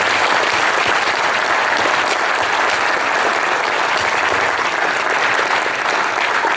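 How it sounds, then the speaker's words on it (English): A large audience at a 2019 athletic Hall of Fame awards ceremony gives a sustained round of applause for the honorees, loud, dense and even for several seconds. "Let's have a nice round of applause for them."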